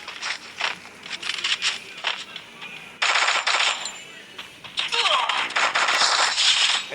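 Bursts of gunfire from a UMP and an X-Mate in a mobile battle-royale game come in rapid sharp volleys, some short and some sustained, loud and close, with brief pauses between them.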